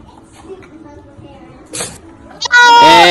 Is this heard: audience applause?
no